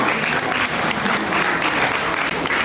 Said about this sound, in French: On les applaudit tous